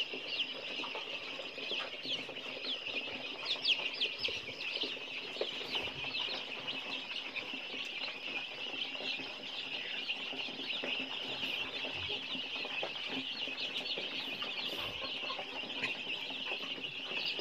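Ten-day-old crossbred free-range chicks of a striped-head fighting breed cluck and peep steadily while feeding, a dense, continuous chatter of many birds close by with no talk over it.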